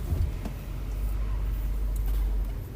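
Steady low road-traffic rumble of cars and heavier vehicles at a busy intersection, continuous and fairly loud throughout with no distinct passes standing out.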